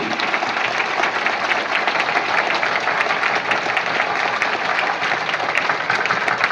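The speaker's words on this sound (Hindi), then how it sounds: "जोर से दोनों हाथ की तालियां बजाकर इनका सम्मान कीजिए।" Dense, sustained applause from a large audience clapping with both hands at a Brahma Kumaris Diwali festival gathering in Jamnagar, steady and loud throughout with no talk over it.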